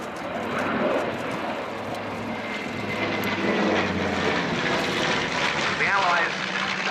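Piston engines of a B-25 bomber drone loud and steady at an air show, a dense rumbling roar that holds throughout with slight swells and no break.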